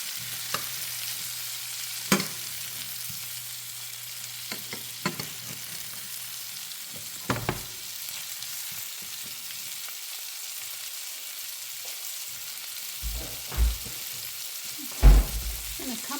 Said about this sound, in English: I'm just going to tilt the pan and put it over the steaks for flavor.